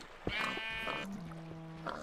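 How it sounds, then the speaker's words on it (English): A sheep bleating in Minecraft, a couple of short wavering bleats close by, with other faint game sounds around them. "That's a sheep."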